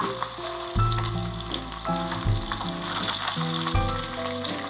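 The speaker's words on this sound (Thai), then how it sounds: "ดี๋ยวเราจะดับไฟแล้วก็ใส่กะเพราจ้ะ" Chicken liver stir-frying in a wok with holy basil going in, a steady loud sizzle and frying hiss with scraping stirs and clatter, no talk.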